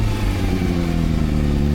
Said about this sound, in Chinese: 我给大家放一个我单手给油，然后回到0再给油的画面啊